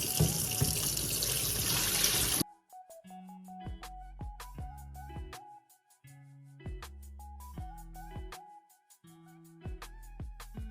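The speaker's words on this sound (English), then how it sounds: "I'm gonna wash this maybe 4 times or so to see how much starch we get out." White rice being rinsed under a running kitchen tap: a brief loud gush of faucet water, then quieter intermittent sloshing, trickling and light clinks against the bowl as the grains are swirled, close up with no talking.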